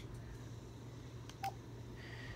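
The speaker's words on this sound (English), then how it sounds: "then you're going to hit *7890#" DTMF keypad tones sound faintly from a VTech cordless handset as a service code is dialed, with a brief clear beep standing out over a low steady hum.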